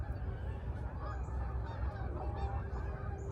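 A flock of geese on a farm honks in a steady overlapping clamor, moderately near, over a low rumbling background.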